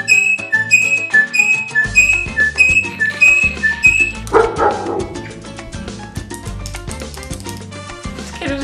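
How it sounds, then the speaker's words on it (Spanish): A dog barks repeatedly in a home, the yaps mixed with loud music full of whistling melodies, steady throughout with no talking. "Y ahora está el perro ladrando."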